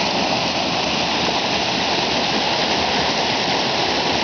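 A violent mountain torrent roars in a dense, continuous rush of water, loud and close with no let-up and no voices.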